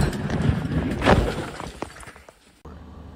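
Water cannon spray from a Chinese coast guard vessel strikes and shatters the window glass of a Philippine ship, a loud rushing blast with a sharp breaking burst near the middle, then scattered smaller impacts fading out.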